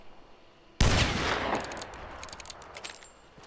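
A single loud gunshot in Hunt: Showdown 1896, fired with special ammo, bursting in sharply and trailing off into a long reverberant rumble and scattered crackle, with no talk.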